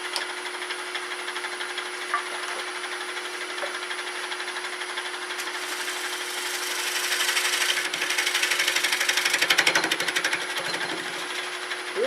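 A negative rake scraper cuts a wet, soft wood bowl spinning on a lathe, making a steady rubbing hiss over a constant motor hum that rises slightly in the middle of the cut.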